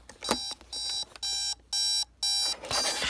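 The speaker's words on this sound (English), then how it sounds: "And the alarm does work," A Spartus Rose jewelry box digital alarm clock sounds its alarm: several loud, high electronic beep bursts in a steady on-off rhythm, close up, with no talking.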